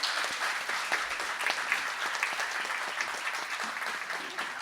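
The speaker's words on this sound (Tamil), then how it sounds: "அதற்கு நீங்கள் ஒரு பெரிய கரகோஷம் கொடுக்கலாம்" Steady audience applause for a singer fills a concert hall, dense and continuous clapping from a large crowd with no voices over it.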